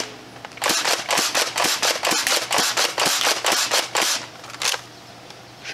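DartZone Nexus Pro X foam dart blaster slam firing, a rapid string of about fifteen sharp plastic clacks and thumps in an uneven rhythm, close and loud, with no talking.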